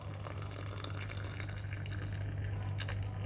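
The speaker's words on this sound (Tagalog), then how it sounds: "lagyan na natin ng mainit na tubig" Hot water streams steadily into a cup for Lipton tea, a continuous close-up gushing pour over a low hum, with no talking.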